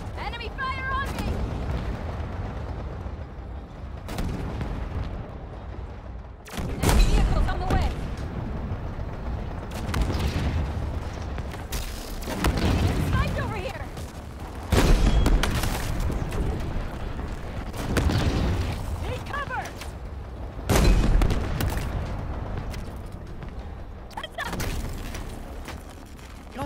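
Gunfire and explosions in the Halo Infinite campaign: heavy blasts and volleys of shots hit at regular intervals through a long, dense battle, with a player's voice talking over the action.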